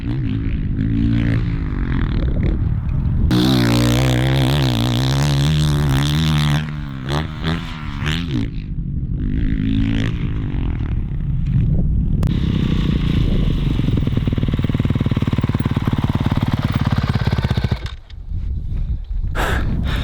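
A motocross dirt bike revs hard on a home dirt track as the rider tries a jump from the corner, its engine loud and close, surging and shifting pitch, then cutting and briefly dropping near the end.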